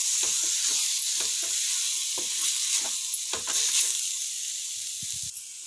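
Beetroot stir-fry being mixed in a hot pan, giving a steady close sizzle with repeated scraping and stirring knocks of the spatula.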